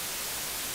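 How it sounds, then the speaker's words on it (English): A synthesizer's noise source plays steady, loud white noise with its second oscillator switched off, a constant even hiss with no variation and no talk. "if I turn it on noise, turn off oscillator 2, and turn on the record ready for that track, you just get noise"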